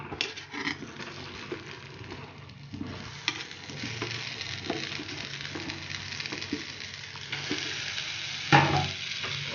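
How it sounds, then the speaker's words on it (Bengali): Spice masala and amla (Indian gooseberry) frying in hot oil for a sweet amla pickle, giving a steady close sizzle with soft stirring scrapes throughout and a brief louder clatter near the end. "তেলটা আমি গরম করে নিয়েছি। এর মধ্যে আমি 100 গ্রাম মশলা দিয়ে দিলাম।"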